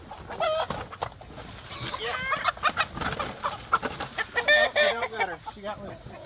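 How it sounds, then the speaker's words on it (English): A black hen clucks and squawks repeatedly, fairly close and loud, with a faint voice briefly in the background. "So Daddy's got one that's outside, a pretty black hen."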